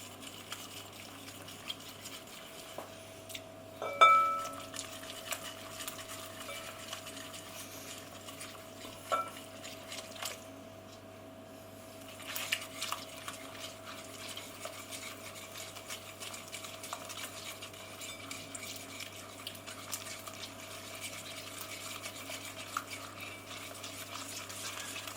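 Egg being worked into flour for toad-in-the-hole batter, soft scraping and tapping of a utensil in a bowl under a quiet steady hum, with one louder knock early on.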